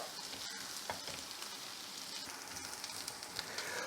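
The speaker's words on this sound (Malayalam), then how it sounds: "ഇതിൻ്റെ അടപ്പിങ്ങനെ മാറ്റി വെച്ചിട്ട് ഒരു രണ്ട് മൂന്ന് മിനിറ്റ് ഇങ്ങനെ ഒന്ന് ഇളക്കിയെടുക്കുക" Clove beans frying in an open pan while being stirred, a steady close sizzle with faint scraping and no talking.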